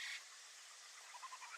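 Frogs croak in the Amazon rainforest. The calls are faint and distant, short repeated pulses that come in near the end over a steady, hissy wash of jungle background noise.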